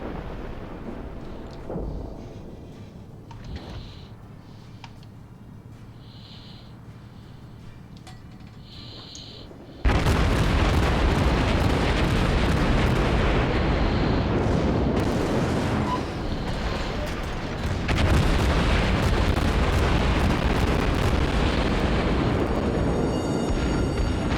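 After a quiet stretch with faint ticking, heavy cannon fire erupts suddenly into a loud, continuous booming roar that rumbles on with brief dips.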